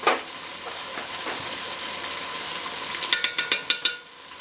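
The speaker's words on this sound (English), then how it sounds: "Now I'm going to stir in the bouillon." Beef bouillon gets stirred into a simmering homemade spaghetti sauce, a soft steady bubbling sizzle followed near the end by a quick series of spoon taps against the pot.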